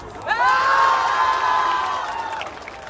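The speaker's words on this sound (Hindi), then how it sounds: "तालियां बजाओ" A crowd of students cheers and whoops at a college fest performance, a loud rising roar of shouting voices that holds and slowly fades, with little clapping.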